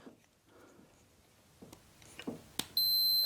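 A multimeter gives a single steady continuity beep, sharp and sustained, while its probes test the electric brake on a Rascal 850 mobility scooter, after a few soft clicks and taps of probes.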